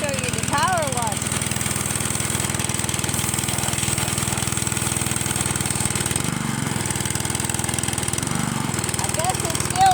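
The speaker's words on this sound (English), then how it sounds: "I'll show you the power washer." Power washer engine running outdoors by tractors, a steady, loud mechanical drone with a constant pulsing beat throughout, with people talking over it.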